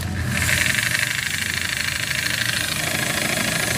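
A Japanese domestic-market 100V handheld electric jigsaw running at speed setting 1 gives a steady, close, buzzing motor drone that starts within the first moment and holds evenly throughout.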